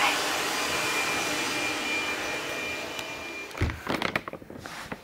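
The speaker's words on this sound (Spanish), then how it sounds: "Marta se está secando el pelo." Hair dryer blowing on someone's hair, a steady loud close whooshing roar that holds for several seconds before being switched off, followed by brief thumps and handling noises.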